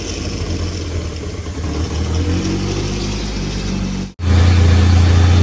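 A rebuilt Honda Accord CB7 engine idles loud and close with a steady mid-pitched hum. The note drops out for a moment, then returns at a raised, stronger idle.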